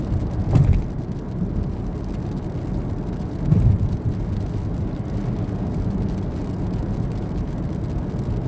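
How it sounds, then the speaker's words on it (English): Heard from inside a car driving at about 40 mph on a wet Oklahoma road, a sudden thunderstorm brings a steady rumble of rain and tires, with two brief, deeper thuds rising above it. "this storm just popped up out of nowhere"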